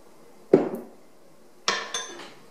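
Cheese and breadcrumbs are mixed with olive oil in a bowl, producing two sharp clanks of a utensil against the bowl about a second apart, each ringing briefly in otherwise quiet surroundings.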